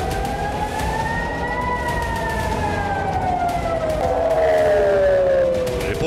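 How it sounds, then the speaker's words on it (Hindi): Several emergency sirens wail in Tel Aviv, rising and falling in long overlapping sweeps, loud and continuous with city noise underneath. "जहां सायरन गूंज रहे हैं और अफरातफरी का माहौल है।"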